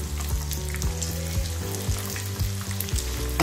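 Cheese chicken fries in oil over a low flame, giving a steady, close sizzle and crackle with occasional stirring or turning knocks, and no voices over it.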